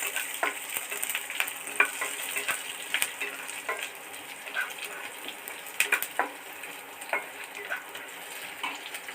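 Chopped garlic and green chili frying in a pan of oil, crackling and popping with a continuous sizzle and scattered sharp spits, heard up close with occasional stirring.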